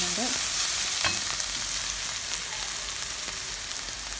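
Chopped onions and prawns fry in hot oil in a pan for a prawn curry, giving a steady close sizzle with a few light clinks and scrapes of stirring and no voices.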